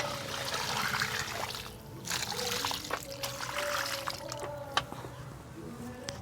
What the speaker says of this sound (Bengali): সবশেষে আমি এই গাছটার গোড়ায় আমি জল ঢেলে দিলাম